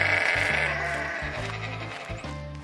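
Sheep bleat repeatedly in a pasture with a shepherd grazing the flock, several loud, wavering calls in quick succession close by, each ending in a short pause.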